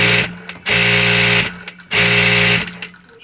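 A Juki or Jack automatic industrial sewing machine stitching with its cutter switched off, giving two loud, close, steady whirring runs of about a second each, with pauses between them and no talking.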